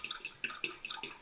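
Metal spoon clinking rhythmically against a bowl while stirring salt, rapid rise yeast and water together for garlic naan dough, a quick series of bright scraping taps up close.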